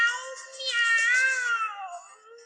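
A drawn-out, high, wavering meow rises and falls, likely a voice imitating a cat, clear and close with no other sound around it.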